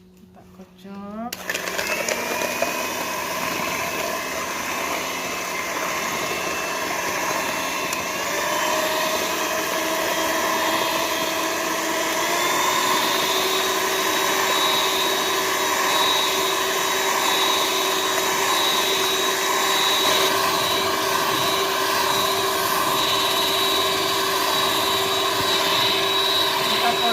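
An electric hand mixer beats 260 grams of granulated sugar for an old-fashioned homemade sponge cake, starting with a click and then running as a steady, loud motor whine with high tonal harmonics that continues without a break.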